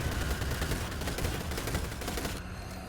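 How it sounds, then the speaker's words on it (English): Guns fire in the video game Destiny 2 during a fight against a swarm of thrall. Loud, rapid bursts of shots go on without a break, and the noise thins out right at the end. "Just spread the bullets around."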